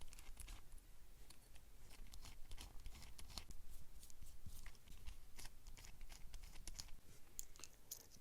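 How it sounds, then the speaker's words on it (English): A small 0.05 inch hex driver backs out the four bolts on an RC car's stock motor plate, giving scattered light metallic ticks, scrapes and clicks over a steady low background. "we're going to remove the stock motor plate. And all we do is just remove these 4 bolts"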